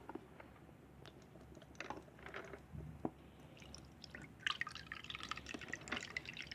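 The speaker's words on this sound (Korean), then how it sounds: "자, 먼저 보라색부터 부어 볼게요." Purple liquid poured into a cup, a soft uneven trickle with faint drips and splashy bursts, quiet and close with no voices.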